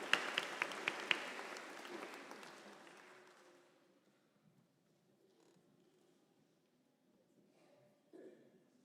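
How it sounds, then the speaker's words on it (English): Applause from the audience at a college nurses' pinning ceremony, loud clapping at first that thins and fades out over a few seconds, leaving a quiet room with faint shuffling and a brief bump near the end. "Let's give them a good round of applause."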